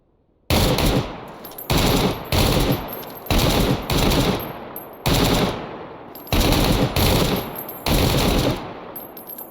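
An AK Alpha rifle in STALKER Anomaly fires in loud, close bursts of automatic gunfire, about eight short volleys separated by brief pauses.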